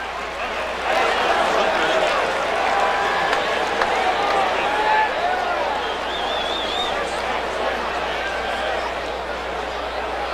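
A large college football stadium crowd with mixed home and away fans at a 2002 Oklahoma Sooners vs Tulsa game, a loud continuous roar of cheering and shouting with a brief swell, carrying on steadily throughout.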